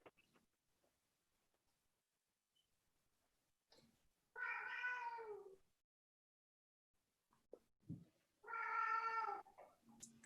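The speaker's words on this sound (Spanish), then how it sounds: "Esos gatos ya sé de quién son." Cats meow twice, each a clear drawn-out cry about a second long separated by quiet, with a few faint clicks and rustles in between.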